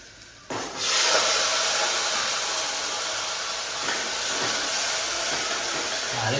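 A khichdi tempering hits a hot pan with a sudden loud burst of hiss after a brief quiet moment, then keeps sizzling steadily and evenly to the end.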